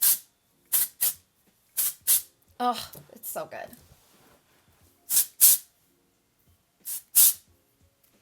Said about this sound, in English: this is the spray that I spray like through my hair